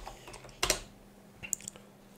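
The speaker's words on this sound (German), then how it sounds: "geben das Root-Passwort ein" Soft, quiet computer keyboard typing while a root password is entered during a Ubuntu 12.04 software installation, a few scattered key clicks with one sharper cluster of taps, close and alone.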